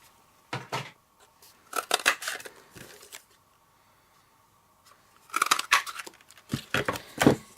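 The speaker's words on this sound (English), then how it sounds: "I'm just going to trim this paper down a little bit so that my punch can" Scissors trim cardstock paper in short bursts of crisp snipping and rustling, two clusters separated by quiet pauses, close and fairly loud with no talk.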